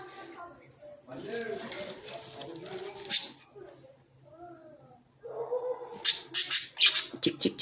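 Pet budgerigars chirp and squawk in a home aviary, a mix of warbling chatter and sharp bright calls that grow louder and busier toward the end, with a person's voice heard at times.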